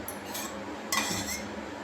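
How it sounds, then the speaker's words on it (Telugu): A metal kadai is set down on a kitchen stove, giving a couple of short clanks and clinks against the burner, close and moderately loud with no talk. "ఇప్పుడు కళాయి పెట్టుకొని"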